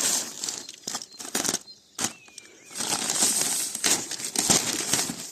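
Plastic packaging crinkles and rustles in bursts as a homemade refrigerated trailer is unwrapped, with close crumpling and tearing sounds separated by short quiet gaps.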